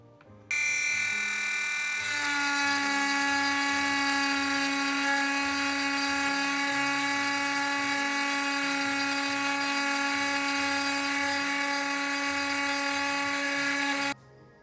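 Dremel rotary tool burning a bluejay and praying mantis nature scene into wood, a steady high-pitched whine held for about fourteen seconds, close and continuous with a slight pitch drop near the start.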